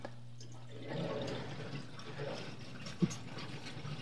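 Water filling and running through the pipes of an outdoor wood boiler heating system, a low steady gurgling rush with a faint hum and one short knock near the end, no talking.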